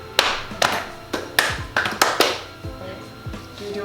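Cheerleaders beat out a slap-clap-clap rhythm between cheers, sharp percussive hits landing in quick groups, close and crisp, with a little talk in the background.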